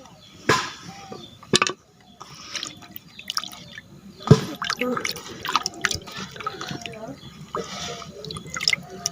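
Chopped village vegetables are swished and rinsed in water, with close splashes, drips and sloshing in irregular bursts, and a voice talking intermittently.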